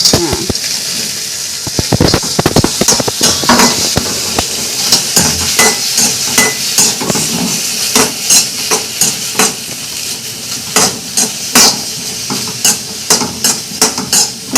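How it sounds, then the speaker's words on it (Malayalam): Small okra sizzles and crackles steadily as it fries in a hot pan, with repeated sharp scraping strokes of stirring throughout and no talking. "വെണ്ടയ്ക്ക എടുത്തിട്ടുണ്ട് അതൊന്ന് വറക്കട്ടെ കേട്ടോ"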